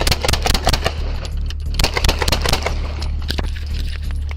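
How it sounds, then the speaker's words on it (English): Rapid gunfire in a police shootout, a dense run of sharp cracks and bursts over a low engine rumble, loud and chaotic with jangling metallic clatter throughout. "Shots fired!"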